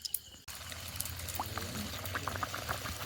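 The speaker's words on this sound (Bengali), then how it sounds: "কড়াই ধুয়ে এনে বসিয়ে দিয়েছি, গরম হয়ে গেছে, তেল দিয়ে দিচ্ছি কড়াইতে।" Oil poured into a hot, freshly washed kadai starts a steady close bubbling sizzle after a brief quiet start, with small crackles and pops spread across the sound.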